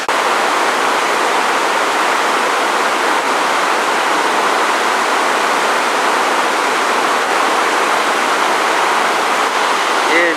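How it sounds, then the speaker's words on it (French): A waterfall in Norway, near a fjord, pours with a loud, steady roar of broadband rushing water that holds unbroken for the full stretch. No other sounds stand out. "Nous sommes passés devant une cascade magnifique"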